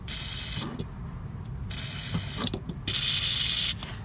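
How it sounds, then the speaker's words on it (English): Old, broken can of WD-40 spraying in three loud hissing bursts close by, with clicks and handling noises between them, during brake-line work on a Nissan Micra K12. "Try and use up my old broken can of WD-40."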